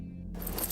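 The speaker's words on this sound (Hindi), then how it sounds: "जैसे कोई लोहा लोहे से टकराए।" A brief metallic clank and jangle, like metal striking metal, sounding once nearby over a low background hum.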